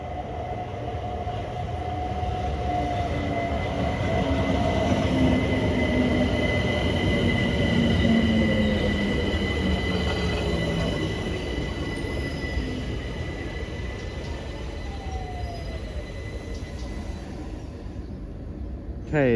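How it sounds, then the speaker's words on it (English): A London Overground Windrush line Class 378 electric train pulls into a station, a steady loud rumble of wheels and motors with squealing tones rising and falling over about twenty seconds. "arriving in now was a Windrush line service to Clapham Junction. It is 378138."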